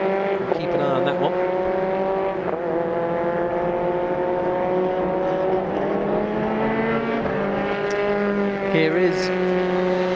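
A single-seater MRF Challenge race car howls through a hairpin turn during free practice, its engine note sweeping up and down through downshifts and reacceleration, loud and sustained beneath a commentator's voice.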